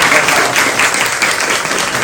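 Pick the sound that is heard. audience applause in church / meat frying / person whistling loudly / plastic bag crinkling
audience applause in church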